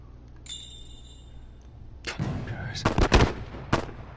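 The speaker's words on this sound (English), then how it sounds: "Dude, this sniper is crazy, bro." Sniper rifle shots in The Last of Us, several sharp gunshot bursts arriving in the latter half, loud and close, with faint voices between them.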